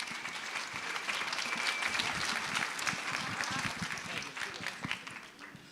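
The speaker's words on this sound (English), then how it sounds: "Give them a round of applause." An audience claps steadily for a panel at a Christian worldview film festival. The applause is a dense, sustained roar of many hands that holds at full strength throughout and only begins to thin near the end.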